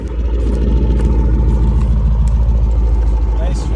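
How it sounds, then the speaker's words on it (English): A car's exhaust rumbles at low RPM, a deep, steady, loud throb close by that lasts the whole stretch, with a voice faintly present over it. "Now that it's lower RPMs, let's hear the exhaust."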